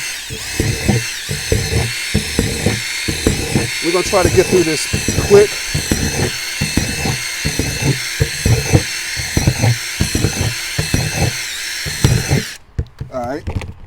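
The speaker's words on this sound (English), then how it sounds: "So we're gonna drill our holes." A power drill whirs steadily through most of the clip, drilling holes in a plastic container while a person talks close by, then it stops near the end.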